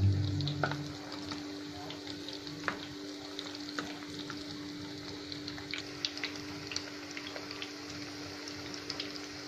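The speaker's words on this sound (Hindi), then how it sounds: "अब हम इसे पलट कर दूसरे साइड भी पका लेंगे" Mutton chapli kababs fry in a pan over a low to medium flame, giving a steady, moderate sizzle with scattered small pops and crackles throughout.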